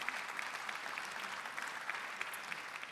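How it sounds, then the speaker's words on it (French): Audience applause at a morning conference session on senior housing, steady and moderately faint, dense clapping sustained throughout with no talk. "Oui, vous pouvez applaudir."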